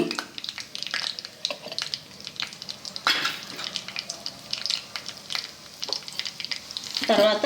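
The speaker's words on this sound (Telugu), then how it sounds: "ఆయిల్ కాగిన తర్వాత తాలింపు గింజలు వేసుకుని" Oil crackles and sizzles as seeds hit the hot pan, with sharp popping bursts scattered throughout and a louder flare at the end.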